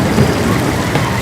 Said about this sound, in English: hear the rain beating down on the tarmac on the road just in front of me here